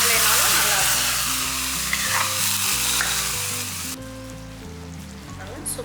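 Hot tempering poured into a vegetable gravy for chapati, bursting into loud, steady sizzling that dominates before dropping away abruptly, leaving a quieter crackle underneath.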